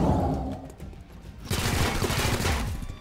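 Gunfire in the video game XCOM Chimera Squad: a quieter stretch gives way to a sudden dense burst of rapid shots that rattles on loudly for over a second and a half, with no talking.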